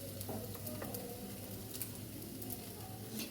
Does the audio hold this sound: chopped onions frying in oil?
yes